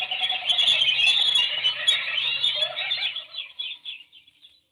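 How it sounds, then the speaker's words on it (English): Birds give a dense, shrill burst of chirping and squealing calls close by, which thins into scattered chirps and fades to silence. "The birds."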